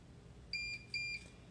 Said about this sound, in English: Start button, press it, doesn't start, just beeps twice.